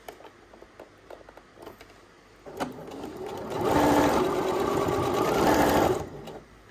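After some quiet handling clicks, a domestic sewing machine stitches a Liberty baby quilt in one short, close burst of rapid whirring lasting about three seconds before stopping.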